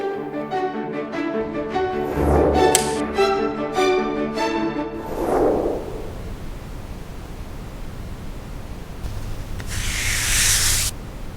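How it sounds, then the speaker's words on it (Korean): Soft rubbing and squeaky friction on facial skin before washing, close and dry, then a hushed noisy stretch with a brief burst of hiss near the end. "세안점 피부 소리를 측정해 보았습니다"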